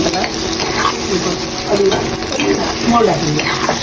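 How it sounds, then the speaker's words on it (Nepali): Tomatoes fry and sizzle in a pan while being stirred, giving a loud, steady hiss with scraping stirring strokes throughout and no speech. "टमाटरलाई चलाउँदै पकाउँदै गर्ने"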